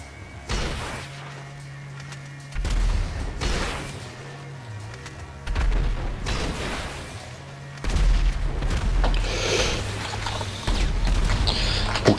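Rockets explode in GTA Online as a series of deep booms, four heavy blasts spaced a few seconds apart with rumbling mechanical noise between them.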